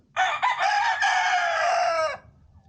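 A gray stag rooster crows once, loud and close, a full cock-a-doodle-doo lasting about two seconds with no talk around it.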